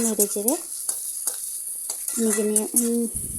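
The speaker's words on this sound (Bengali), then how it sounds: "এবার পেঁয়াজ আর করলা দুটো একসঙ্গে ভালোভাবে ভেজে নেব" Sliced bitter gourd and onion frying together in a kadai, giving a thin continuous sizzle under a few short tonal chirps and light scraping clicks, close by, with no speech.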